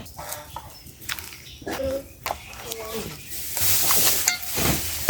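Rice-flour flower fritters go into hot oil. Someone talks over clattering kitchen sounds, then a loud, close sizzle rises and fills the last seconds.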